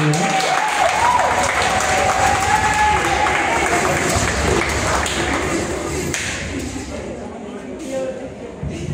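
Applause from a crowd at a memorial service, a dense sustained clatter of many hands that tapers slightly toward the end, with a voice briefly rising over it near the start.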